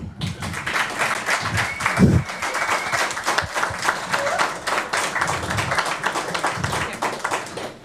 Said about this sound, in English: So now you can give a big round of applause.